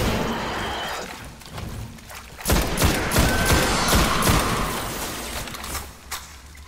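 Rapid gunfire crackles in Destiny, the PS4 shooter, played on an Exo Hunter campaign mission. Bursts of shots come in quick clusters over a steady background, fairly loud and close, with mechanical clatter between volleys.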